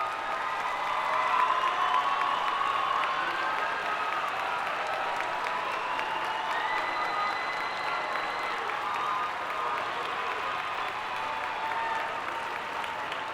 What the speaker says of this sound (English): Please stand so your children can give you a well-deserved round of applause